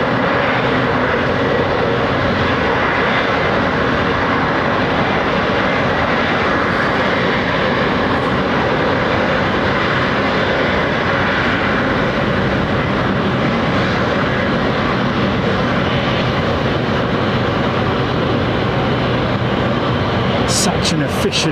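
An Airbus A350-900 with Trent XWB-84 engines at Heathrow, a loud sustained engine roar that fills the scene steadily, with people talking over it.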